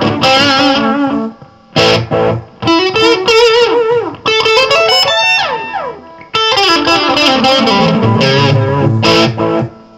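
An electric guitar through a Caline Blue Ocean delay pedal plays bending, sustained notes with repeating delay echoes and a slightly gritty, overdriven edge, loud and alone.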